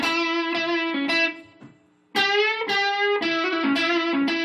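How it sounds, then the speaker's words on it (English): Distorted electric guitar plays short melodic licks: a sustained phrase, a brief pause, then another run of bright, overdriven notes, loud and close. "I'm still playing the guitar."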